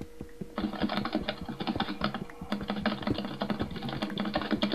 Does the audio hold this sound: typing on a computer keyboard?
yes